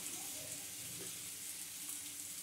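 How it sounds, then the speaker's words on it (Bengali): Taro pieces with salt and turmeric sauté in oil for a hilsa fish curry, giving a faint, steady sizzling hiss with no clear voices. "দিয়ে ভালো করে আমি কচুটা একটু সাঁতলে নেব।"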